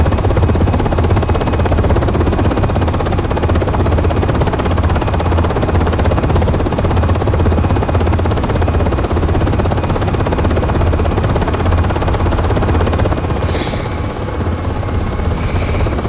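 Loud, steady rotor and turbine roar of a UH-60 Black Hawk helicopter flying low-level nap-of-the-earth, a continuous close thumping drone that holds for the whole stretch with no talk.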